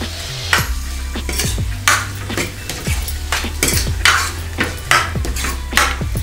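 Chole masala being stirred in a pan: a spoon repeatedly scrapes and clinks against the metal every second or so, over a steady soft sizzle, close and fairly loud with no voices.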